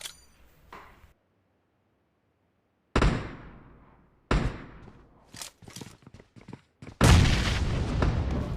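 Video game gunfire comes in sharp, loud bursts and echoing booms separated by silent gaps, ending in a sustained heavy volley; no one talks over it.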